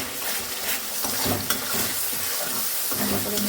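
Spice paste stirred into a frying pan with tomato and potatoes, sizzling steadily up close with repeated scraping stir strokes and occasional clinks of utensil on the pan.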